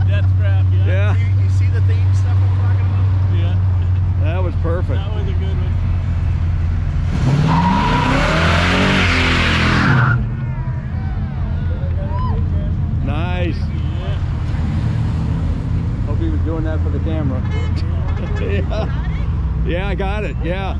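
A car sliding sideways on a racetrack at night, engines droning steadily throughout with a loud burst of tire squeal and skidding noise lasting a few seconds midway, while people talk over it.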